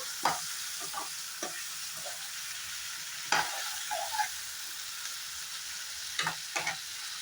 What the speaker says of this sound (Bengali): এখন এই সরষা, পোস্ত, কাঁচা লঙ্কা আর রসুন সবগুলো জিনিস আমি খুব সুন্দর করে ফ্রাই করে নেব।